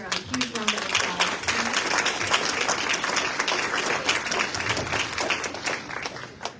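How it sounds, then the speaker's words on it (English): Audience applause at a teacher awards ceremony: lively, sustained clapping from a crowd with scattered voices and cheers mixed in, holding steady for several seconds. "Can we give Sarah a huge round of applause"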